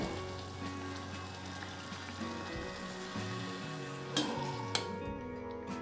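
Kadakani, traditional jaggery sweets for Navratri, deep-frying in oil over a low flame, giving a steady close bubbling sizzle throughout with a few brief clinks of a utensil near the end, no talking.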